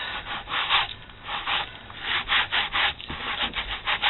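Dry paper being rubbed off a photo canvas transfer, a steady series of scratchy, close strokes in uneven rhythm, with no talking.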